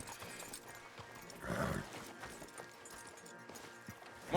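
A horse whinnies once amid the thud of hooves in a video game, with faint background sounds and little else.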